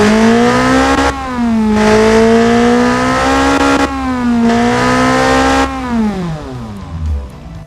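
A custom 2.0-litre inline-four racing engine in a video game revs hard and close. The rising, buzzy engine tone climbs and dips through several gear changes before falling away, with no talk over it.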